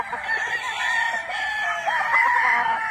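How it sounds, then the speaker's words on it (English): A pure brown red game rooster crows once in a long, loud, close call that fills the moment on its own. "Look at my little pure brown red rooster."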